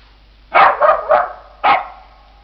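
A dog close by barks three quick times and then once more after a short pause. The barks are loud and clear against a quiet background.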